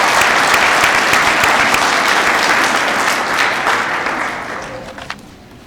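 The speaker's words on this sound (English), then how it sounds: "If we would like to give them a round of applause." A large commencement audience applauds certificate graduates, a dense, loud wash of clapping that holds steady and then thins out and fades toward the end.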